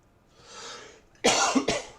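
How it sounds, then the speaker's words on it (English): A person coughs twice into a close microphone, sharp harsh bursts after a brief breathy throat sound, alone with no talk. "I don't mean to cough in the microphone"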